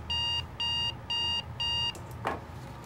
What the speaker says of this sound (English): Is it with an alarm clock?